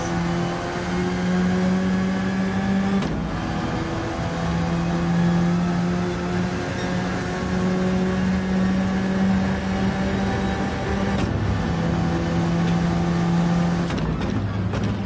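In Gran Turismo 7, a race car's engine drones and climbs in pitch as throttle is applied out of a hairpin, with sharp shifts near three and eleven seconds and no talking.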